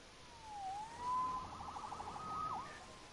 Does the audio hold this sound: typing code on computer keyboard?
no